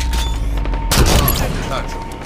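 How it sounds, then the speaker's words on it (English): A grenade explosion in a Halo-style multiplayer video game, a loud burst followed by scattered gunfire in a busy match, with announcer and team callouts spoken over it. "Grenade on the way!"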